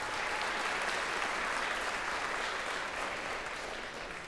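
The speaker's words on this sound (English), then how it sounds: "Please give him a nice round of applause." Steady, dense audience applause fills a jazz festival venue, a continuous wash of many hands clapping at even loudness without pause, with no voices standing out.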